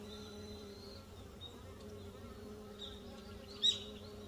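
Drone honeybees buzz over a hive frame, a steady faint hum close by with a brief louder buzz near the end, no talk.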